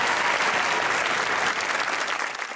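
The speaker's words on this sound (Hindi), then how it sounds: "लाइबा के लिए एक दफा तालियां यार।" Studio audience applause on a comedy show, dense steady clapping from many people, close and loud, tapering slightly at the end.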